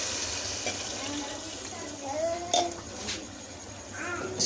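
A glass of water poured into a cooking pot of fried beef tripe and liver being cooked, a brief splash and gurgle rising midway through, with someone talking over it in a home kitchen.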